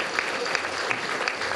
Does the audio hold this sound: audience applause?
yes